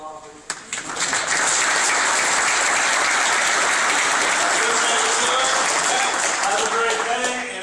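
A crowd of workers gives a loud, sustained round of applause at a safety meeting, starting after a sharp knock and holding steady and dense throughout.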